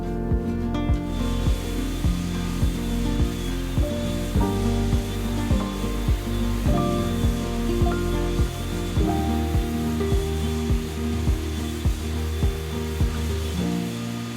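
A steady whirring power sander drones continuously up close on a sailboat's hull, with a low hum and faint rhythmic knocks underneath, no talking.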